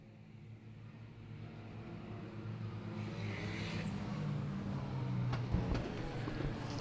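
GT race cars run under the safety car at a 2023 Power Series round: a faint, steady engine drone slowly swells as cars pass, with a couple of brief sharper clicks near the end.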